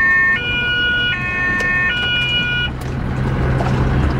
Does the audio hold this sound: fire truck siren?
yes